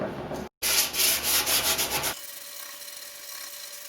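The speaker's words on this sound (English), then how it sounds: "That's going to do it for sanding." A boat cockpit deck is sanded by hand on fiberglass in a workshop: about two seconds of close, rhythmic back-and-forth rubbing strokes with one short break, then a quiet room hum.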